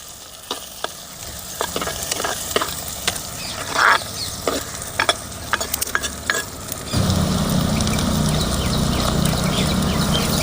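Onions fry in ghee and groundnut oil for village-style mutton sukka, a steady sizzle with frequent sharp spatula scrapes and clacks, then a sudden louder, fuller frying roar in the last few seconds, with no talking.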